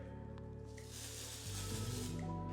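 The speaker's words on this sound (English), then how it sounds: "And then also our foot powder spray." A can of foot powder spray hisses out in a steady continuous burst, close and fairly loud, with the spray growing denser partway through.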